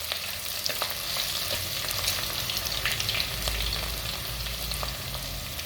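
Crushed garlic and three dried chillies frying in hot oil for a crab gravy, a steady close sizzle with occasional stirring scrapes, no voices.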